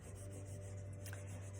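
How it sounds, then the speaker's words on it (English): A marker rubs and scratches across paper while someone sketches grass at the bottom of a drawing, a soft, close, continuous scraping over a low steady hum. "I'm just gonna use my marker on the side here"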